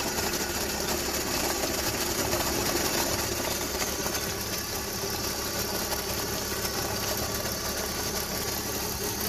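An idling BMW petrol engine with a faulty crankcase breather runs steadily with a continuous bubbling, gurgling rattle throughout, close and fairly loud, with no voices.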